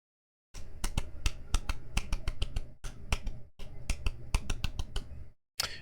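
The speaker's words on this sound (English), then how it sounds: "my mic is picking up my clapping and it's not supposed to" Hand claps captured by a desk microphone, sharp irregular smacks in quick bursts, close and crisp, with short silent pauses between runs.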